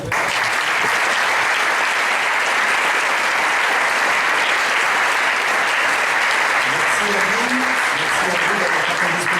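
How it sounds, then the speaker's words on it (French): An audience at a talk about colonising Mars applauds loudly and continuously, a dense unbroken crowd roar of clapping with faint voices underneath. "Merci beaucoup, on peut les applaudir."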